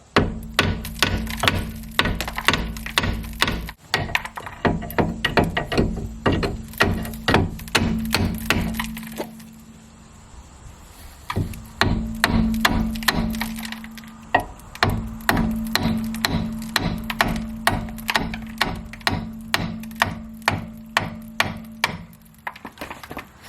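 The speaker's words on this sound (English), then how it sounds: "It might need a little help. In this case, a 3-pound sledge. Very careful, it's cast iron." A 3-pound sledge strikes a cast iron brake caliper in a long run of sharp, evenly spaced metallic blows, loud and close, with a short pause midway before the hammering resumes.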